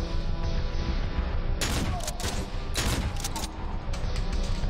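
Gunfire in the horror game Cry of Fear, a loud, dense barrage with two heavy bursts of shots over a constant roaring game background.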